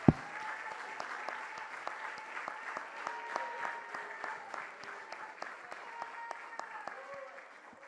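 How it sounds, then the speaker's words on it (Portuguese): A church congregation at a family worship service applauds, with many hands clapping in quick, uneven bursts after an initial sharp clap, steady throughout and fading toward the end. "Você pode aplaudir o Senhor pela sua palavra."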